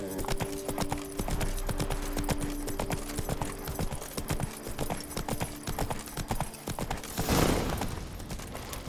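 Hooves of Roach, a horse in The Witcher 3, in a fast, steady clip-clop gait, close and continuous, with a brief louder gust of noise near the end.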